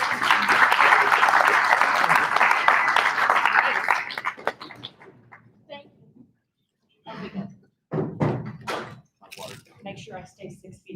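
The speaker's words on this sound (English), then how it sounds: "give her a big round of applause as she comes out" Conference audience at a new member retreat applauds loudly and steadily for several seconds as a speaker walks out on stage, then the clapping fades and scattered handling noises and a few footsteps follow.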